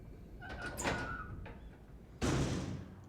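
A door opens in the video game We Happy Few, with a soft creaking scrape followed by a louder thud or latch as it swings open, all over low ambient game noise.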